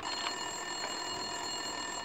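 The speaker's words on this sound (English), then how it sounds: "Winterson's phone was ringing." A desk telephone rings in an office scene of the video game Max Payne 2, with repeated electronic bell trills that are steady, fairly quiet and heard alone.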